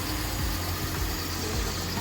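A car engine idling during a test drive of a prospective first car for a teenage daughter, a steady low rumble that stays even throughout, with no voices.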